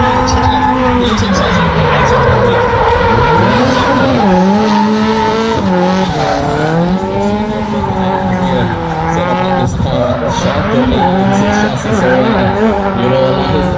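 Twin-cam Toyota AE86 drift car pushing hard around a race circuit, its engine note loud and near, rising and falling with throttle changes, with tyre squeal and commentary running over it throughout.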